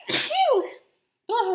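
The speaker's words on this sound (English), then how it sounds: "I'm gonna sneeze." A single loud sneeze up close, a sharp burst that trails off, then after a short pause a brief vocal sound.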